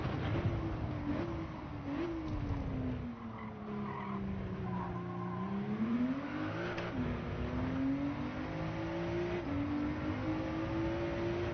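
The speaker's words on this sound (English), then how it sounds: "A little over rev in second gear there didn't do us any good, did it really?" A race car in Gran Turismo 7 revs high in second gear with a rising and falling engine whine through repeated shifts, tires squealing and skidding underneath, loud and continuous with no talking.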